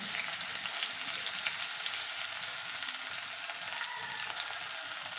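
Crushed shallots frying in hot coconut oil for a Kerala pumpkin curry, giving a steady, even hiss of sizzling with no talk.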